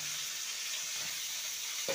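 Ridge gourd and potato pieces frying in oil in a pan, giving a steady close hiss of sizzling with a soft stirring scrape near the end.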